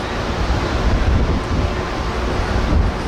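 Strong wind gusts buffet an outdoor microphone at a bourbon and music festival, a loud continuous rumbling roar that swells and eases without pause.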